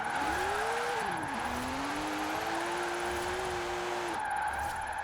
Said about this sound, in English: I feel like it just spins its rear wheels way too easy.